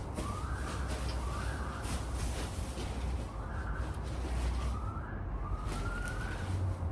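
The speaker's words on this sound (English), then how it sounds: "It's an interesting siren in the background." A distant wailing siren rises and falls repeatedly beneath a steady, dense background rumble of traffic noise.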